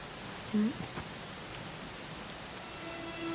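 Rain falls steadily in Dragon Quest XI, a soft, even hiss of drops spread across the whole stretch, faint and continuous with a brief bump of other sound near the start.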